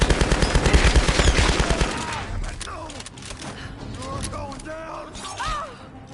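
Rapid automatic gunfire in Tomb Raider (2013) rattles loudly for about two seconds, then gives way to scattered shots, clatter and game effects, with talk running over the top.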